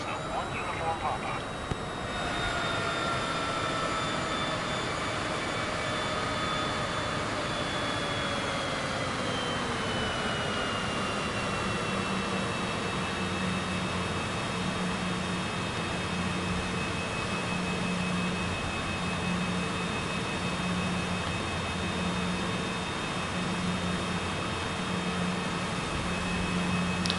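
Cessna CJ4 jet engines in Microsoft Flight Simulator 2024 give a steady, loud turbine whine and roar, with the pitch sliding lower early on and then holding constant, under intermittent talk.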